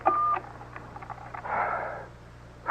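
In a 1976 radio mystery drama, a telephone is dialed: a clear tone at the start, then a series of faint, quick blips, a soft rushing stretch and a final short tone.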